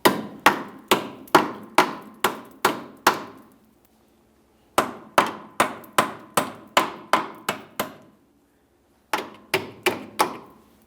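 A hammer knocks sway bar links up through the control arm on a 2006-2012 Ford Fusion, sharp metallic strikes in three bursts of about six to eight evenly paced blows, separated by short pauses.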